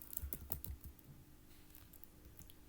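A computer keyboard clatters close by as an expression is typed, with a quick burst of keystrokes at first and then lighter, sparser taps over a faint steady hum.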